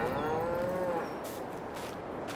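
A cow in Farming Simulator 22 gives one clear, loud, drawn-out moo that falls away after about a second, leaving a quieter in-game farm background.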